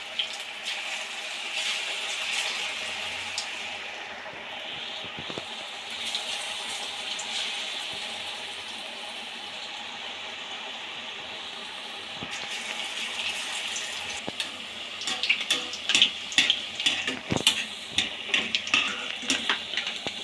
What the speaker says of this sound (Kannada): ಗ್ಯಾಸ್ ಫ್ಲೇಮ್ ಮೀಡಿಯಮ್ ಫ್ಲೇಮಲ್ಲಿ ಇಟ್ಕೊಂಡು ಪಕೋಡ ಹಾಕ್ತಾ ಹೋಗಿ